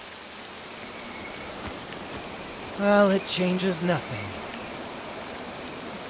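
Steady rain falls throughout a scene in the video game Octopath Traveler II, a soft even hiss, while a voice speaks briefly in the middle.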